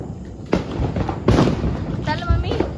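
Diwali firecrackers burst nearby in sharp, loud pops at three separate moments, with voices in the background.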